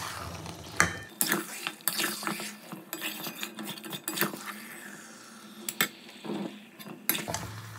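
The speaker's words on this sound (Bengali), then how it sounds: "এবার মশলার সঙ্গে মাংসটা দিয়ে খুব ভালো করে কষিয়ে নেব।" Marinated mutton is stir-fried with spices in a pan, with uneven clattering of a spatula against metal, scraping and a soft sizzle, close and irregular.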